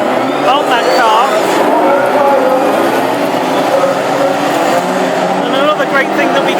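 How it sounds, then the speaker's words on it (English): A classic hot rod race car grinds and roars as it struggles for traction during a heat at the English Open at Hednesford, a loud continuous engine and tyre din with a voice talking over it. "We can hear just how much that car is grating as he tries to get some traction in on that car."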